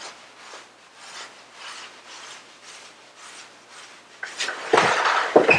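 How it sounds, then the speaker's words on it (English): Hands rub briskly over the skin of an arm during a self-massage, a close, soft rhythmic rasping in repeated strokes that becomes louder and rougher near the end. "Maybe throw in a bit of rubbing."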